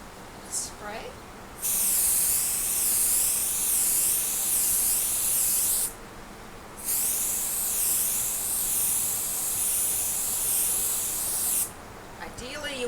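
Two long, loud bursts of hissing spray onto a taped quilt outdoors, with a short pause between them and a brief third burst at the end, over faint wind.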